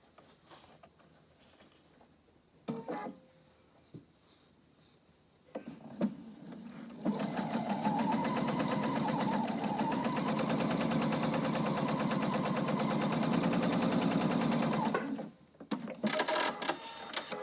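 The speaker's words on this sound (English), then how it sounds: "sew from the centre to the edge" Sewing machine running a long continuous burst along the seam of a fabric face covering, a loud rapid mechanical chatter lasting several seconds, with quieter handling noises before and after.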